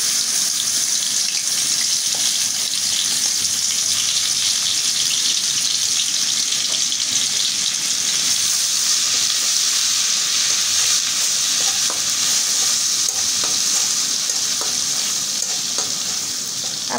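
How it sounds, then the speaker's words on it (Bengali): Ginger garlic paste frying in a pan while being stirred during preparation of a Bain fish curry, a continuous loud sizzle with a faint hiss and scraping throughout, no voices. "আদা রসুনটা আমি আগে ভালো করে কষিয়ে নেব।"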